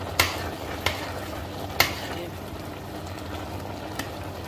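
A spoon scrapes and clinks against the pot as desiccated coconut is stirred into reducing milk and carrots for halwa. A few sharp taps stand out over a soft, steady simmering hiss.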